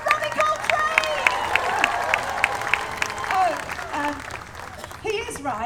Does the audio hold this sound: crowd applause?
yes